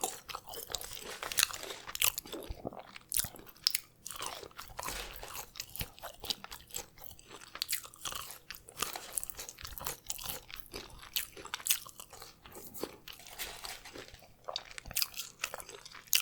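Crinkle-cut chunky fries being eaten close up, with steady crunching and chewing bites repeating throughout, crisp and intimate, without speech.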